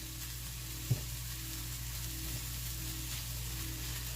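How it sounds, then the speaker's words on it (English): Food sizzles steadily in a pan, an even crackling hiss with one small tap near the start, no talking. "Now I'm just going to let this fry for a little bit"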